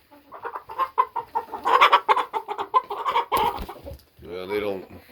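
Lavender hens on a farm clucking and squawking in a noisy, dense burst of overlapping calls close by, ending in a lower drawn-out vocalisation.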